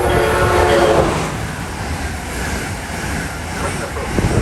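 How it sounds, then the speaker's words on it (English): An Amtrak Acela train rumbles past close by a station platform, loud and continuous, with a horn-like tone at the start that fades into steady rushing noise. "waiting for an Amtrak Acela to go by"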